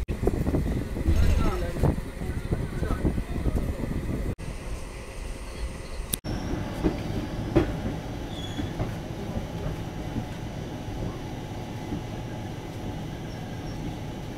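Steady rumble and rattle of the Kanchanjungha Express running between Kolkata and Bardhaman, heard from inside a 3rd AC coach, with a few sharp clacks and faint voices underneath.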